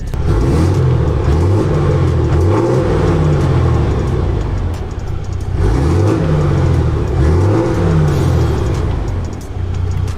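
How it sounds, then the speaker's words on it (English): A Cadillac Escalade truck's engine revs repeatedly through a 6-inch exhaust tip, loud and close, with rising and falling sweeps in two pairs of revs over a deep steady rumble. "that 6-inch tip definitely allows this truck to make some super sweet noises"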